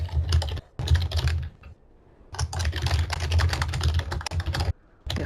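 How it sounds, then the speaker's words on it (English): Rapid typing on a computer keyboard, close and clear, in quick clattering bursts separated by short pauses, with no talk. "sorry about the typing there"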